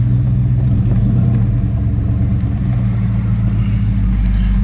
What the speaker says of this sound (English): First time this truck's moved in 2 years.